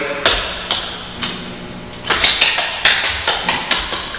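Tap shoes strike a hard floor in heel digs, first as a few spaced sharp hits, then a quicker run of crisp, close taps with no talking.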